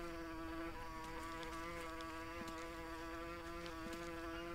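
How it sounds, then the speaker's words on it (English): Insects buzz steadily around a nearby hive in the jungle survival game Green Hell, a dense continuous drone with faint clicks, close and loud with no other sounds. "I'm tempted to knock it down just so I don't hear that buzzing anymore"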